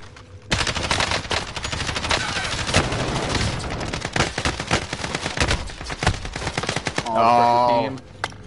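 Rapid bursts of automatic gunfire crackle continuously as two teams fight in Warzone, dense and loud, with a brief louder tonal sound near the end.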